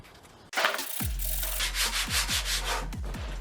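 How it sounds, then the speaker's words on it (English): Sandpaper rubs back and forth over the corners of an aftermarket car speaker adapter, starting after a short pause. The strokes come close and loud in a steady, repeating rhythm, with no talking. "Just on these corners right here, I'm gonna sand that off"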